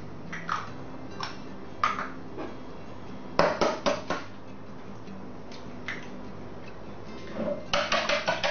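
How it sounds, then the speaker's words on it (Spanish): Two eggs are whisked for chocolate custard, a utensil tapping against a bowl in quick rhythmic bursts of clinks, scattered single knocks early and faster clusters later, close and alone. "cogeremos los dos huevos y los batiremos"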